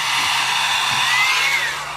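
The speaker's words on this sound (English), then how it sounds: "I like to use a hairdryer." A hair dryer blows steadily on a plastic Dungeons & Dragons miniature, a loud continuous airy whoosh held close for two seconds with a slight easing at the end.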